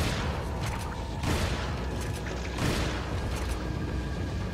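Shotgun blasts in the video game Resident Evil 4: two heavy booming discharges roughly a second and a half apart, each followed by a rumbling tail over a dense, continuous game-sound background.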